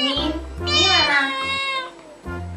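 A cat meowing in the Jurassic World Evolution 2 video game, a few close, loud, drawn-out tonal calls with rising and falling pitch, separated by short pauses.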